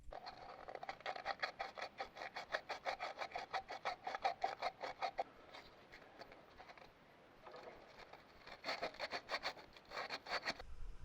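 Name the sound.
sanding engine surface by hand with sandpaper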